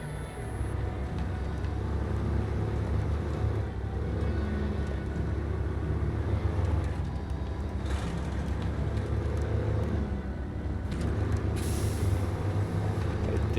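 A truck in the video game SnowRunner drives a steady low engine drone with rumbling and a few brief hissing bursts, loud and continuous, no talk.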